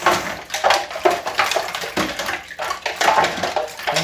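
Makeup brushes swished in a basin of water mixed with hair conditioner, a steady close sloshing and splashing that swirls in repeated strokes without pause.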